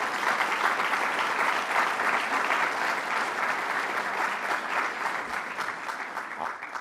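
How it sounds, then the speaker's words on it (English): A large university audience applauding the chancellor, a loud continuous roar of clapping hands that stays full and steady throughout, with no talk over it. "let's give the chancellor a round of applause"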